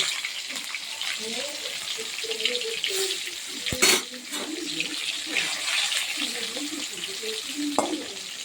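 Pieces of spiny gourd (kakrol) fry in a pan with a steady, close sizzle, broken by a few clinks and stirring noises and a brief burst of louder crackle partway through.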